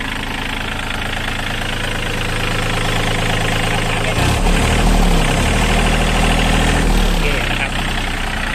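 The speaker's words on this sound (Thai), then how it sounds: "ก็จะดูเครื่องยนต์นะครับ" A used 2009 Yanmar 35 hp tractor engine runs close and loud with a continuous idling rumble. Its tone shifts and deepens partway through as the engine note changes.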